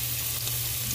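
Chopped onion fries in hot oil while it is stirred, making a steady, close sizzle with no pauses and no voices.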